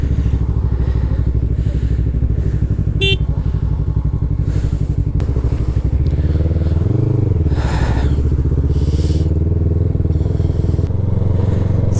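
A Yamaha R3 motorcycle's engine drones steadily and loudly while being ridden on a mountain road near Sonmarg, Kashmir. A brief dip and rise in pitch comes midway, with occasional clattering thumps from the road.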